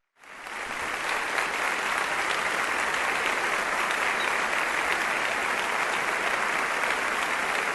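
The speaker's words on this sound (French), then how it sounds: "c'est cela, un fort applaudissement" Loud, sustained applause fills a church as the congregation claps steadily for visiting pastors from Bogotá, a dense unbroken roar from start to finish with no voices heard above it.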